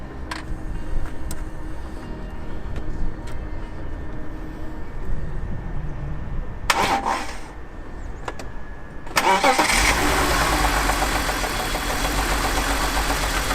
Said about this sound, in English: Is the car in gear when I try and start it?